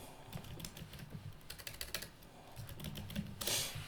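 Fingers tap quickly on a computer keyboard while entering a search into a library search bar, a close, steady patter of key clicks with no voices.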